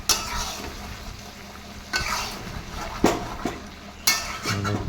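Mutton curry being stirred and sautéed in a pan: a low bed of frying sizzle broken by about four distinct scraping strokes of the spatula against the pan, spaced roughly a second apart.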